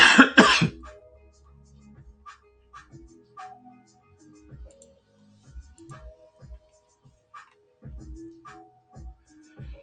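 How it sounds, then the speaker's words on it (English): Several loud, harsh coughs in a quick burst open the scene, then a voice continues quietly over a sparse, low background. "I can't wait for this cough to go away."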